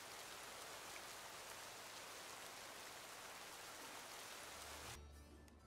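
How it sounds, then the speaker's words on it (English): Steady, dense rain in the video game Pokemon Violet, a constant hiss of falling drops filling the whole clip and cutting off abruptly near the end. "It's raining outside, so that's also an issue."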